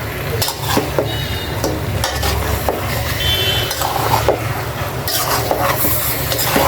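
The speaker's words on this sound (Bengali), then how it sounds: "আর অন্য আরেকটি চুলে আমার কচু শাকের জন্য যে ফোড়নটা বসিয়েছি ওটা গরম হচ্ছে।" Spice tempering for taro leaves sizzles and crackles in hot oil on a stove, a steady frying hiss with scattered pops and occasional stirring clinks of a utensil, close and continuous with no talking.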